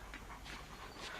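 A dog pants in quick, rhythmic breathy bursts, quiet and close, with faint whimpering mixed in.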